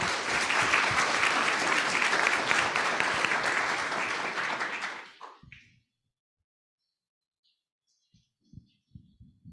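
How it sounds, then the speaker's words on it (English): An audience at a conference session on resilient futures applauds loudly for about five seconds, then the clapping stops abruptly, leaving near silence with a few faint knocks and shuffles. "All right, let's give Lisa another round of applause."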